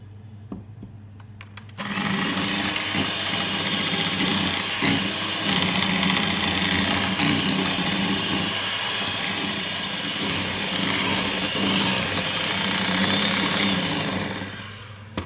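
An electric mixer whirs into mini Oreo cheesecake batter with liquid cream, switching on abruptly after a quiet hum and running as a steady, loud, high whine for over twelve seconds before cutting off.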